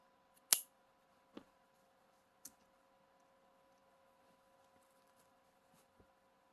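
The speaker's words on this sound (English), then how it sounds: "you can cut off that bobbin" Scissors snipping off a yarn bobbin during crochet work, one sharp near click followed by a few fainter snips in a quiet room.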